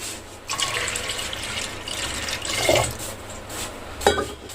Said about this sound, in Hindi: अब इसमें हम डालेंगे पानी। पानी इतना डालें कि हमारी दाल से इतना ऊपर ही पानी रहे।